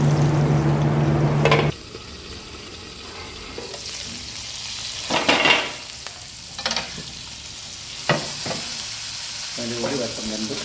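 Masala-coated food fries in a clay pot, giving a close sizzle with intermittent stirring and scraping clatters, a steady tone at the start before the frying noise opens up.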